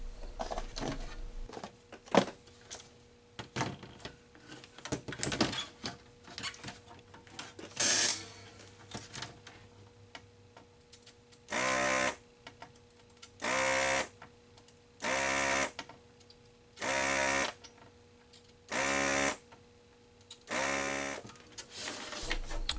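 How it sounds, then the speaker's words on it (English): A desoldering tool pulls solder from a 1980 Atari Centipede arcade PCB, with scattered clicks and handling noise at first and then a run of regular, evenly spaced bursts of a loud motorized suction whir, each lasting about a second. "And then you're ready to start desoldering."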